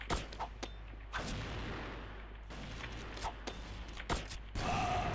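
Gunfire in the CrossFire online shooter game: a rapid series of sharp shots and thuds, some in quick bursts, over a constant background rumble of game noise.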